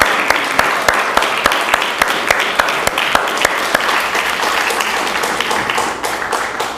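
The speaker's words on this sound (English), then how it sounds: "Let's give them a big round of applause." Loud, sustained applause from a crowd cheering the workers on the Earthship Philadelphia build, dense clapping with sharp individual claps standing out, gradually thinning near the end.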